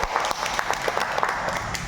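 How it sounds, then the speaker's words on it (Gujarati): Classroom audience clapping for a woman during a lesson on savings week, a steady patter of many hands at moderate, even loudness. "પૂર્વીબેનને તાળીઓ પાડો"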